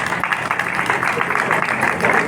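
An audience at a Jain Chaturmas religious gathering claps in a dense, continuous burst of applause, loud and close, with no pauses.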